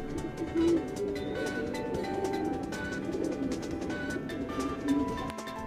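Pigeons in a breeder's loft coo steadily in overlapping, low throaty calls, with occasional wing flutters and faint background noise throughout.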